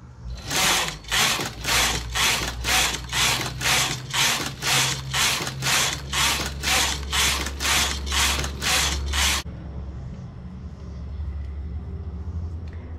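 A knitting machine carriage sliding across straight rows of an adult swimsuit, a loud rhythmic clacking repeated about every half second for several seconds, then stopping into a quiet mechanical hum.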